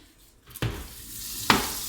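Butter sizzling in a frying pan with minced onions, garlic and parsley just added, a steady close frying hiss that rises as the ingredients go in, with a brief clink of utensils.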